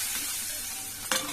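Garlic tempering is poured into gongura dal, a soft steady hiss close by, then a sudden louder burst of sizzling near the end.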